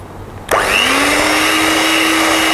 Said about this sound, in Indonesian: Selesai, terus kita akan mixer lagi.